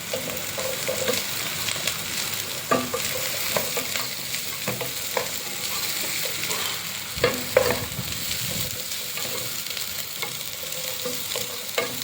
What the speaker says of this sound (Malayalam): ഇതും കൂടെ ഇട്ട് വഴറ്റിയെടുക്കാം